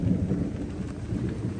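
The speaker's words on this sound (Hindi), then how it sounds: "हल्की हल्की बारिश हो रही है और बादलों की आवाज़ आ रही है।" Light rain and rolling thunder during a storm in New York City: a steady, close wash of rain with a low, continuous rumble of thunder running underneath throughout.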